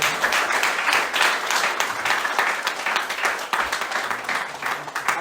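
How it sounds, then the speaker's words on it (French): A church congregation applauding during a service, sustained dense clapping from many hands with slight swells, close and loud throughout. "Applaudissons au Seigneur pour glorifier encore."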